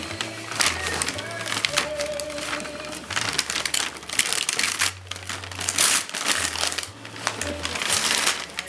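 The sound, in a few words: child unwrapping a wrapped Christmas present, paper crinkling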